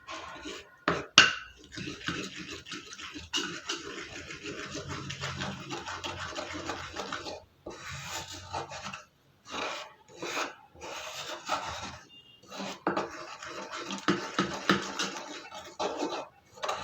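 Homemade neem face pack being mixed in a bowl: close, uneven scraping and rubbing strokes that stop and start, with brief gaps between bursts.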